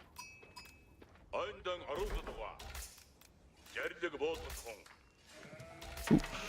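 Sheep bleat in a strategy video game, short wavering calls that pop up a few times amid busy game effects and clicks, while a person talks over them.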